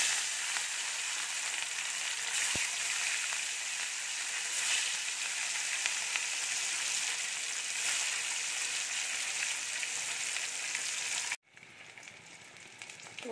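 Fish frying in hot oil in a karahi, giving a steady, dense sizzle that holds evenly for about eleven seconds before a brief cut and a quieter, continuing crackle.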